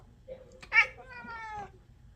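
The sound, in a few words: orange and white cat meowing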